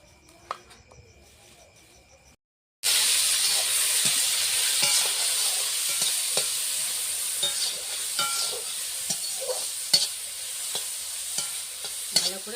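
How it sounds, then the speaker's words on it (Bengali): Cashews and raisins fry in ghee in a hot pan, a loud, steady sizzle that starts abruptly after a short quiet pause and continues with scattered stirring clinks, and no one speaks. "ভালো করে কাজু কিশমিশটা ভেজে নিতে হবে।"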